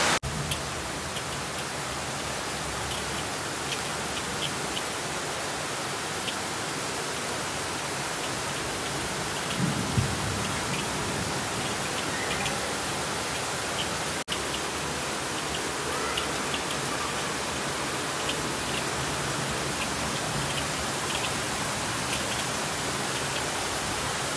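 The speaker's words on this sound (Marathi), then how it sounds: "कारण की पाऊस खूप जास्त आहे आणि पाणी अफाट भरलं आहे" Dense, constant hiss of heavy rain pouring steadily, broad and unbroken throughout with no voices.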